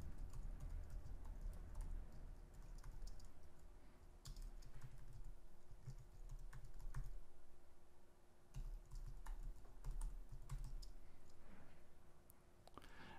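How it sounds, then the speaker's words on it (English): Typing on a computer keyboard, a quiet steady patter of close key clicks in short irregular runs with brief pauses over a soft background hum. "I am going to type my domain name."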